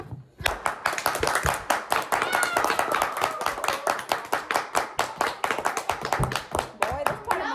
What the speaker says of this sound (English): You're supposed to clap.